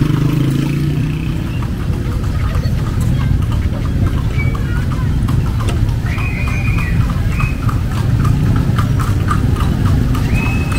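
A horse's hooves clip-clop in a steady rhythm along a street in Vigan, Philippines, close by over a constant rumble of passing traffic and engines.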